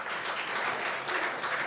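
A home crowd at a darts match, the Jacoby Scottish Open, claps in dense, steady applause, filling the moment loudly and continuously with no break.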